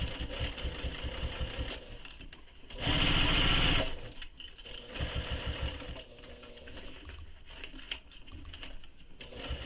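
Sewing machine back stitching on a bag: a steady mechanical whirr that runs in short bursts, swelling into one louder, faster run before slowing again, close and alone with no talk.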